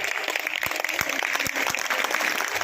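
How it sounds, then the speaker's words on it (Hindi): An outdoor village gathering in India gives a short burst of clapping, with crowd noise around it and a few sharp louder claps standing out. "दोनों हाथ ऊपर उठाएं और जोरदार तालियां अपने गांव के सम्मान"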